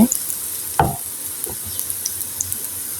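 A red spinach snack fries in a little oil in a pan with a soft, steady sizzle, one sharp utensil knock near the start and a few lighter taps after it.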